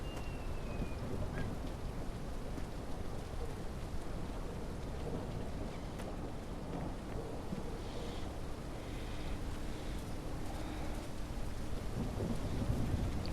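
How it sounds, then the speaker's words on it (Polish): Rainstorm with rolling thunder in the video game Drug Dealer Simulator 2: continuous rain hiss under low, distant rumbles that swell and fade across the span, with no voices. "Jakaś pora deszczowa jest na tej wyspie."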